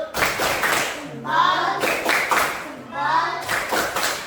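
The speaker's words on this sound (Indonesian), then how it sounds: "Kita beri tepuk tangan terlebih dahulu." A group in a classroom gives a short rhythmic clapping cheer, with bursts of clapping alternating with voices chanting together; loud and close.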